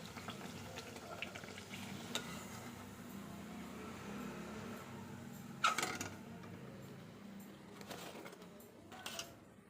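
Hing luchi deep-frying in hot oil, a soft continuous bubbling sizzle with a few louder crackles and clatters partway through, no talking.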